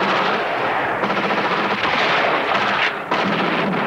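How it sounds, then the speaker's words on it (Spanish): Sustained automatic gunfire and blasts fired at an arsenal in a battle scene from the 1992 action war film Raiders of the Sun: dense, loud, continuous rattling bursts with no talk, briefly dipping near the end before resuming. "¡Disparo al arsenal!"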